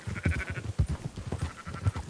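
Sheep bleat repeatedly in Red Dead, a flock being rounded up, with several overlapping calls of varying pitch close by and no talk.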